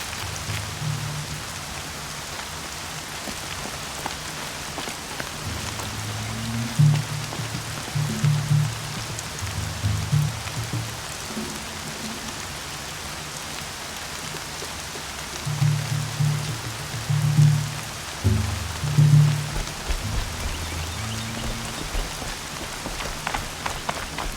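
Rain falls steadily in the video game Horizon Zero Dawn, a constant hiss of drops on surfaces with low rumbling thumps and footstep-like bumps in bursts, and no talk.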